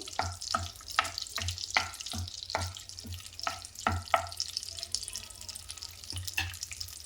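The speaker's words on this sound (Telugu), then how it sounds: "లవంగాలు, దాల్చిన చెక్క, ఇలాచి, అవి లైట్గా ఫ్రై కావాలి." Cloves, cinnamon and cardamom frying lightly in a pan, a soft sizzle under regular clinking stirring strokes, close and fairly quiet, with no voices.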